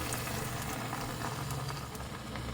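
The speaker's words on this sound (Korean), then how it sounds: "달군 팬에 기름 두르고 그대로 넣어주세요. 두부 자리를 좀 먼저 잡아주고 남겨놓았던 계란물을 모두 넣어주세요." Tofu and beaten egg cooking in a hot oiled pan, a dense, even sizzling hiss throughout with a faint bubbling undertone.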